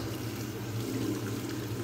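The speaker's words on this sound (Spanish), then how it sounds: "Hay que lavarse las manos con agua y con jabón." Tap water runs steadily while hands are washed with soap, a continuous close gush of moderate loudness with no talk over it.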